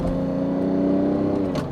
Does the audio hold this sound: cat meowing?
no